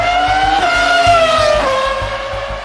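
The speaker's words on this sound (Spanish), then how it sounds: "No es lo mismo escuchar los monoplazas actuales que los de los principios de los años 2000." Formula 1 V10 race car engine screams at very high pitch, its tone sliding downward as the car shifts and passes, loud and alone without voices.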